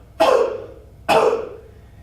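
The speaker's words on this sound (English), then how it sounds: "we want you to cough" Two sharp, close coughs, evenly spaced about a second apart, each with a quick burst and short fading tail, in an otherwise quiet room.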